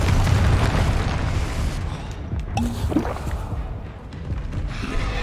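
Explosive blast from the Confringo fire spell in the Hogwarts Legacy video game: a loud, deep boom that rolls on as a sustained rumbling roar, with no talk over it.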